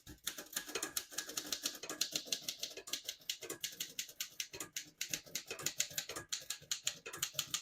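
Typing on a 1927 Royal P Model vintage portable typewriter: a steady, rapid run of sharp keystrikes clattering close up, with occasional heavier clunks, continuing throughout.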